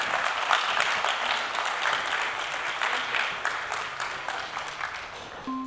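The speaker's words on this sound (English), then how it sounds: "Let's give a big round of applause for Colleen Johnson." An audience at a conference talk applauds steadily, a sustained wash of clapping hands that gradually tapers off toward the end.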